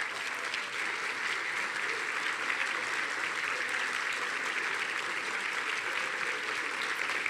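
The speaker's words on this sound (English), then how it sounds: "please stand so we can give you some applause." Cornerstone Society members of St. Louis Public Radio receive sustained applause from an audience at an indoor event, a dense, even wash of clapping that holds steady throughout.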